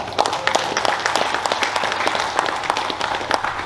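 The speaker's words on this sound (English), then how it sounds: "So please, a round of applause for that." An audience at an Indigenous leadership business gathering applauds, a dense and steady wash of clapping that holds for several seconds with no talking.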